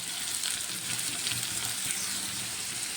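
Green chillies and onions fry in a pan for a bitter gourd curry, giving a continuous, fairly quiet hiss and sizzle with faint scraping underneath.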